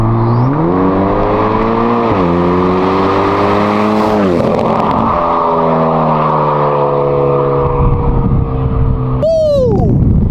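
A Hyundai Elantra N engine and exhaust rev hard and close, rising and falling in pitch over several pulls, ending in a quick sharp blip, loud throughout.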